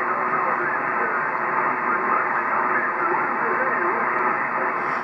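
Steady hiss and crackle of atmospheric noise fills a 40m ham radio band receiver at night, a constant loud static wash with no clear voice breaking through.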